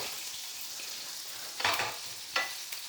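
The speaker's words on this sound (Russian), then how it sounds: "левой рукой мы перемешиваем как бы такими восьмерками" Butter sizzles steadily in a frying pan while omelette eggs are stirred in figure-eight motions, with two louder scraping bursts of the utensil against the pan standing out over the constant hiss.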